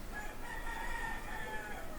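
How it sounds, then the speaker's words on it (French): A rooster crows in a long, drawn-out call heard at a distance over a steady background hiss, with no one speaking. "Coq."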